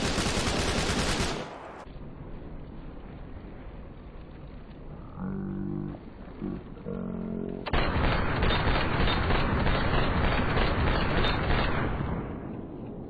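Loud gunfire in Arma 3, with a sharp burst at the start, a stretch of quieter background activity and then a long, dense sustained stretch of shooting or explosive noise.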